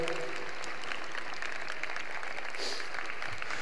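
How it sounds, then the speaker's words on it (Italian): Faint, distant applause from a crowd at a national paratrooper gathering in Vittorio Veneto, Italy, a steady patter of clapping held low throughout. "un atterraggio perfetto per Massimo, che accogliamo con un grande applauso."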